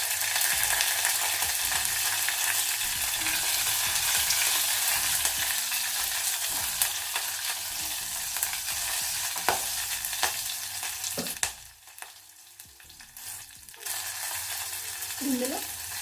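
Sliced green chillies sizzle steadily in hot oil in a pan while cooking ulavakattu, a continuous close frying hiss with occasional stirring scrapes.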